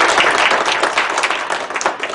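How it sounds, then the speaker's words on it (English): A seminar audience applauds after a talk on stress in same-sex couples, with brisk, dense clapping close by that stays steady and loud for the whole moment. "go ahead and give a round of applause"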